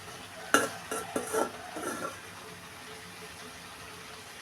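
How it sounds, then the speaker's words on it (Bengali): Ridge gourd is sautéed in a pan: a few sharp clanks and scraping stirs near the start, then a quiet, steady sizzle continues alone. "এখন ঝিঙ্গা কষিয়ে নিব"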